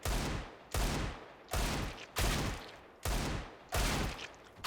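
Six Desert Eagle pistol shots in CSGO fire one after another at a steady, unhurried pace, each a sharp heavy crack that tails off quickly.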